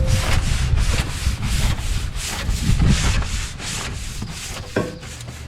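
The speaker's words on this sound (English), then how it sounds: "I'm just gonna scrub it a little bit to work it in." A brush scrubbing deck wash into a trailer deck that had become slippery, with loud, continuous back-and-forth bristle scraping in quick strokes, close up and without speech.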